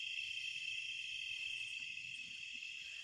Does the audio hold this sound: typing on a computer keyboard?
no